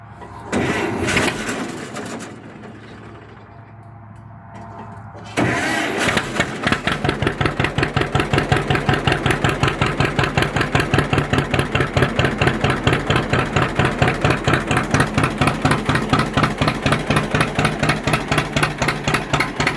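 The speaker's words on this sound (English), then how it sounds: "there's your cold start on that old 2-cylinder John Deere Model 50" An old two-cylinder John Deere Model 50 tractor cranks over on a cold start, then catches after a few seconds and settles into its loud, steady, evenly spaced popping two-cylinder beat that runs on alone.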